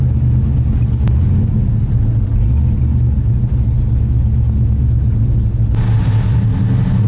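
An LS-swapped Mazda Miata drift car holds a loud, steady, rumbling engine note close by during a quick first-gear test run, with a deep low drone throughout and a brief rise in pitch near the end.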